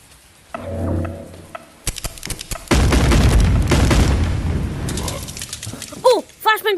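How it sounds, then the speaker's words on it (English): A flashbang grenade goes off in the VR game Animal Company: a sudden loud blast followed by several seconds of harsh, sustained ringing noise, with brief game sounds at the end. "Oh, flashbang bomb!"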